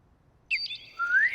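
A person whistles in imitation of bird calls, producing a short, high chirping phrase followed by a rising, sustained whistle, fairly close and clear over a quiet background.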